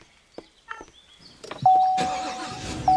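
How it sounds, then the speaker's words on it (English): A neighbor's truck engine outside a house in Pembroke Pines, Florida: a loud, broad rumble rises abruptly about halfway through and keeps going to the end, after a few quieter knocks and clicks indoors. "Probably my neighbor's truck"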